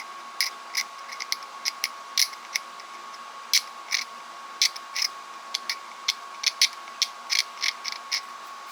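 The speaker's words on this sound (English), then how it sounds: "I figured I'd start by chipping off this white paint." White paint is chipped off the plastic handle of an old Great Neck screwdriver, producing sharp, irregular little clicks and scrapes one after another, close and crisp over quiet background, with no speech.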